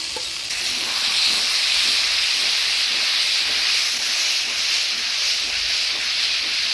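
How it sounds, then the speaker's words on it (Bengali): Fried potatoes go into sizzling spice paste for a Bengali fish curry with pumpkin, giving a loud, steady hiss of frying that swells just after the start and holds evenly, with faint stirring underneath. "এবার ভাজিয়ে রাখা আলু দিয়ে দেবো"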